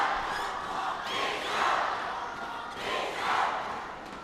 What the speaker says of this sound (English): Supporters in red, they've got something to cheer about at the moment.